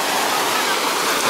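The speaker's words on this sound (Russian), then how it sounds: "Хотя вот ветер такой вот свеженький сейчас дует" Fresh wind blowing at a beach in Alanya, Turkey, on a calm-sea summer day: a loud, constant rushing roar with no breaks across a short moment.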